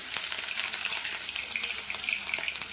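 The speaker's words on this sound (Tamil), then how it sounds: "இப்போ நல்லா பிழிஞ்சிட்டு சிக்கனை போடுறேன்" Chicken pieces frying in sesame oil in a kadai give a loud, steady, crackling sizzle with scattered pops and a faint stirring scrape, and no one talks.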